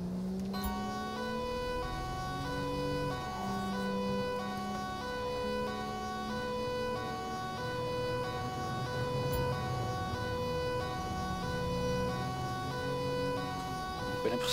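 A police car siren in the video game GTA 5 wails continuously with a steady rising and falling tone over engine and road noise, loud and close.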